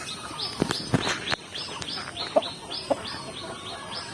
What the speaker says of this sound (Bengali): মুরগিও কিন্তু ড্রাগন খাচ্ছে বন্ধুরা, দেখেন